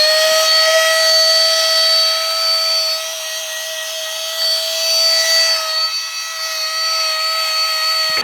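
A steady, high-pitched electric motor whine from a 12V Aipinyue handheld vacuum cleaner, with a strong constant tone and bright overtones, running continuously up close before cutting off at the end.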